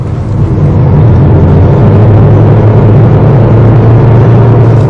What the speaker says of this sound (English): there's a fair amount of engine noise that comes into the cabin